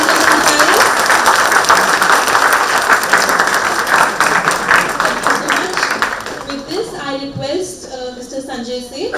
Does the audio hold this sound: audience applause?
yes